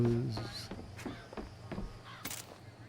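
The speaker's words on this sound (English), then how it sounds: "I hear crows." Crows cawing in the video game BioShock Infinite, a handful of short, harsh calls scattered across a few seconds at moderate distance, with brief footstep-like clicks in between.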